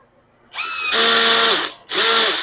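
A Dekton M21 1390BL drill whirs loud and close, spinning up to a high whine, stopping briefly, then running again at full speed.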